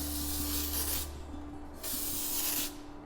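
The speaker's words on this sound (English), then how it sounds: "we're going to spray this in all over" Dry texture spray hisses from an aerosol can onto hair in two long, loud, continuous bursts of about a second each, separated by a short pause, close to the listener.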